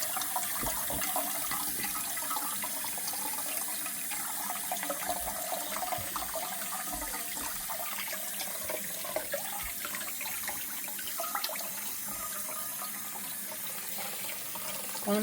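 Black-eyed peas being rinsed under a running kitchen tap, a steady, close hiss of flowing water splashing into a sink for the whole stretch, with no talking.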